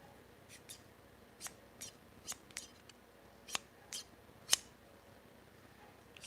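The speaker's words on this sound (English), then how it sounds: "Here is my scissors, these Tomla scissors." Tomla scissors snip and click in a workshop: about nine quiet, crisp, irregularly spaced cuts against a near-silent background, with no voices.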